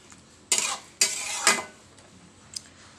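Chickpea-lentil and sweet pumpkin curry stirred in a pan after ghee is added with the gas off, three sharp scraping strokes of a spoon in quick succession, then a faint tap.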